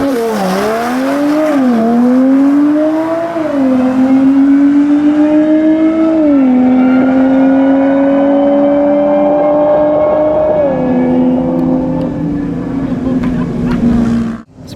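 A Porsche Turbo launches hard at a racetrack, engine note climbing through several rising pulls with short dips at each gear change, loud and close for nearly fifteen seconds before cutting off.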